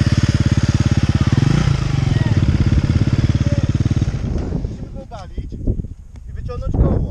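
A motorcycle stuck in water, its engine first running in a loud, even idle thrum, then cutting out into splashing, clattering and scraping sounds up close.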